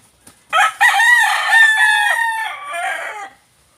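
A wild red junglefowl (labuyo) gives a loud, close crow, a single drawn-out call lasting a few seconds, with a short cluck just before it, heard alone with no voices.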